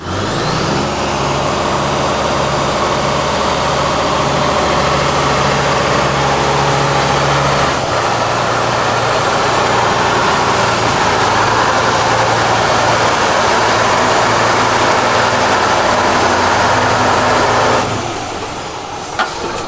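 A MAN V10 18.3-litre twin-turbo diesel fitted in an ÖAF 6x6 truck runs loud and close with a deep, steady drone that shifts pitch partway through and then cuts off near the end.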